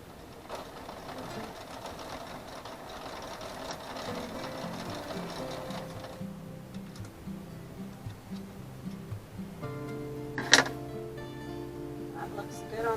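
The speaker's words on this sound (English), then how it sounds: "I want to sew on my fabric just to make sure that my tension is correct." A sewing machine stitches a test line on fabric with fine 80-weight thread in the bobbin, a rapid ticking whir that runs in stretches, pauses and restarts, with a sharp click near the end.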